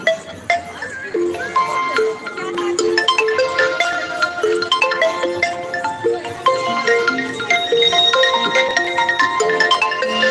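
A melodic electronic mobile phone ringtone plays continuously and fairly loud amid a temple crowd at Gondavale, its repeating tune chiming steadily against background noise.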